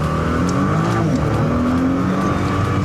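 A 2013 Nissan GT-R Nismo accelerating hard, its engine note climbing steadily and loud for about three seconds, close and without any talk.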